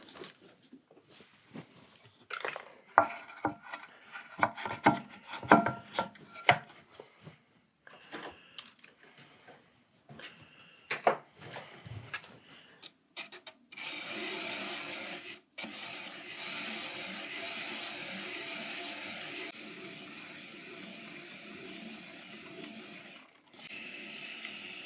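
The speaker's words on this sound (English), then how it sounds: "So I think I'm going to trim it down just a little bit." A clay fermenting crock jar being trimmed on a pottery wheel, first with close intermittent scraping and rubbing strokes, then a steady whirring hum of the spinning wheel with tool contact, and no talking.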